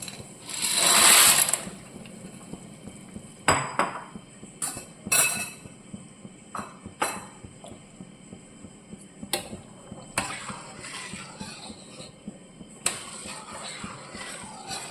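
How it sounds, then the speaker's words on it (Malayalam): Dry pasta tipped into a pot of boiling water: a short hissing rush at the start, then scattered clinks and light knocks against the pot. "ഇനി നമുക്കിതിലേക്ക് പാസ്ത ഇടണം"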